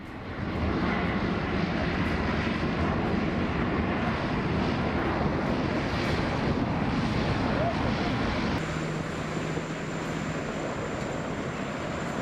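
A US Air Force doomsday plane flies over British airspace, its jet engines giving a loud, steady roar that fills the whole stretch, with wind buffeting the microphone and a slight shift in tone near the end.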